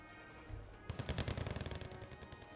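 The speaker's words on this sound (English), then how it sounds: "AA trying to shoot down Harrier GR7" Anti-aircraft guns in the Wargame Red Dragon video game fire at a Harrier GR7, a quick burst of rapid, evenly spaced shots after a short thump, fairly loud with no voices.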